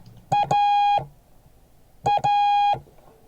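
Morse code letter A tapped out twice as clear electronic tones, each a short dit followed by a longer dah, close and loud with a pause between the two repetitions.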